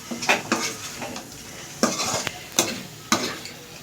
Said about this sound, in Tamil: இப்போ மூடி போட்டு மூடி எடுத்துருவோம். எடுத்துட்டு கிளறி பார்ப்போம் பாருங்கள்.